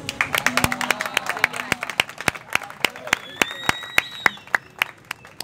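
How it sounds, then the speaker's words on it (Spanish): Applause from an audience at a literary storytelling event, with sharp, spaced claps, as if from a few people, running steadily throughout and a voice speaking faintly underneath. "Ahora sí pueden aplaudir"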